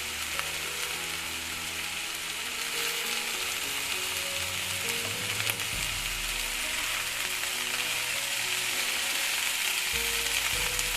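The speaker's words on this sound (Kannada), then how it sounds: "ಎಲ್ಲ ಎಣ್ಣೆಯಲ್ಲಿ ಈ ರೀತಿ ಫ್ರೈ ಆಗಬೇಕು ಸ್ನೇಹಿತರೆ." Green gram sizzling and frying steadily in hot oil in a pan, a continuous close crackle with faint stirring scrapes, no voices.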